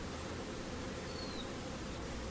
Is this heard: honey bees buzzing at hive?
yes